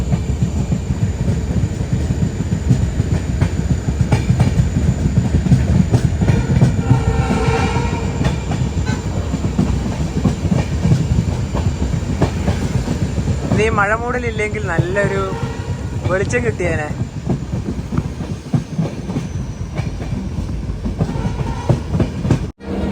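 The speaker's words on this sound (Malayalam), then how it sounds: "ട്രെയിൻ ഇതാ ഡിബ്രുഗഡ് ജംഗ്ഷൻ റെയിൽവേ സ്റ്റേഷനിലേക്ക് എത്തിക്കൊണ്ടിരിക്കുകയാണ്" A passenger train rolls on rails through rainy tea country near Dibrugarh Junction in Assam, a loud steady rumble and wheel clatter from on board with a brief horn, while someone talks over it.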